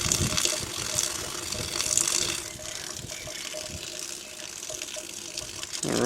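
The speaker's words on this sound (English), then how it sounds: "we'll just run a little bit off to get water to come from the outlet of the tank" Water runs from the outlet line of a solar batch water pre-heater tank, a steady splashing flow with faint mechanical clicks, close by and moderately loud, with no talking.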